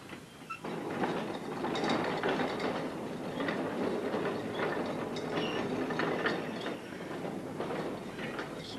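A train sound effect from a period radio drama: a steady, loud rumble of rolling wagons with metallic clatter that carries on unbroken throughout, with no voices over it.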